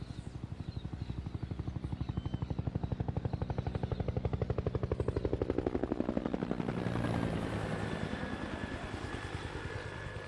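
Helicopters flying over a favela give a loud, steady rotor thump with a rapid chopping rhythm that swells and shifts pitch as they pass. No distinct machine gun fire stands out, and no one talks.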